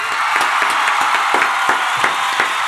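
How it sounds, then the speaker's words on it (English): Scattered handclaps from a small group, quick irregular claps over a steady broadband hiss, moderately close, with no talk. "let's clap it up"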